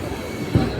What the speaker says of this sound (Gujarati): આપણે ટ્રેન પહોંચી ચૂકી છે સરખેજ સ્ટેશન પર